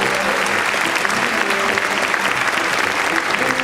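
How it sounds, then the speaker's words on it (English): Audience at a stage magic show bursts into loud, dense applause that holds steady, with faint voices mixed in among the claps. "You may applaud for that."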